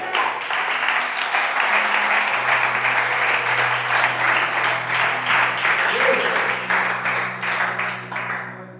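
A church congregation applauds, a full, steady roll of clapping from many hands that swells and holds, with a low sustained organ or keyboard tone underneath, then tapers near the end.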